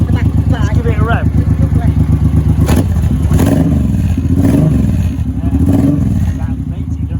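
A Suzuki M1500 M90 motorcycle fitted with dual hyperchargers idles with a loud, steady throb, then is revved several times in quick surges close by, while people talk over it.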